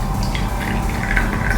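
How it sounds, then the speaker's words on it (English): Warm water pours steadily into a bowl of yeast and sugar, a continuous close trickle and gurgle without any talk. "I'm going to add some warm water"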